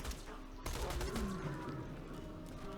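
SMG fire in the shooter game Borderlands 2, a rapid burst of shots followed by a dense crackling spray of gunfire and ringing tails that carries on steadily to the end.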